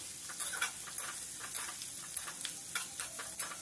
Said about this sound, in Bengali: এটাকে জাস্ট 2 মিনিটের মতো একটু ভেজে নেব।